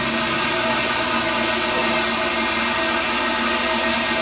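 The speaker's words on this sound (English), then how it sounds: "I'm going to run the jackleg drill for you guys" A jackleg drill runs inside the Britannia mine, a loud, steady, harsh roar that fills the whole clip with no pauses.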